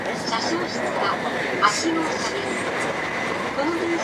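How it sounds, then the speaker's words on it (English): A steady rumbling train ride in Japan between Osaka and Tokyo, with a rushing hum and faint rail squeals, while people murmur in the background. "So of course there's always the occasional train that passes by."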